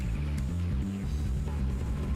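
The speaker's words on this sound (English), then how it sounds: "the mighty roar of the Wankel rotary engine here" Wankel rotary engine of a car in Tokyo Extreme Racer 2, a steady low droning roar that holds throughout at a constant, close level.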